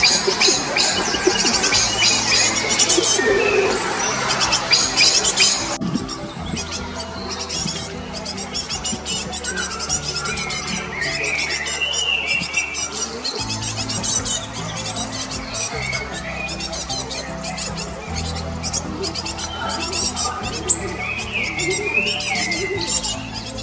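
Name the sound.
Great Tit calls in woodland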